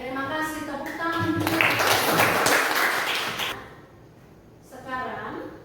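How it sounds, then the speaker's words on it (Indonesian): Students in an Indonesian classroom break into a short, noisy round of clapping lasting about two seconds, with the teacher's voice heard just before and after. "Oke, terima kasih. Tepuk tangan."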